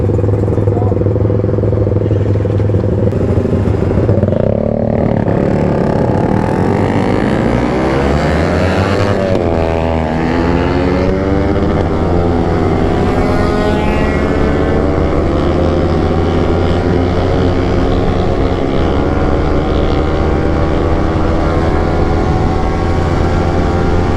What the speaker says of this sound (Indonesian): Gila itu 2 tak kenceng-kenceng banget motornya.